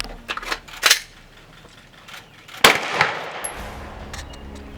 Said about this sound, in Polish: po serii strzelań z broni krótkiej 9 mm i z dwóch strzałów z broni długiej z Breneki